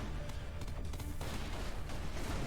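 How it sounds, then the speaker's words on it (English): Torpedoes striking a ship in Everspace 2: dense crackling bursts and rumbling impacts pile up continuously, loud and close, without speech. "Torpedoes incoming."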